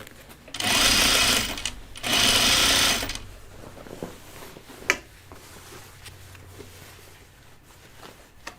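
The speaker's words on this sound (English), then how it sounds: "so I can still sew from the inside of the garment." A sewing machine stitches overalls from inside the garment in two loud, close bursts of rapid whirring, each about a second long, followed by softer fabric handling and clicks.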